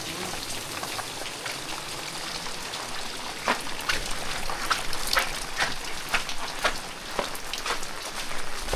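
A steady monsoon downpour patters on surfaces in a Konkan village near Ratnagiri, with distinct drips and trickling water close by and brief sharper splashes, no one speaking.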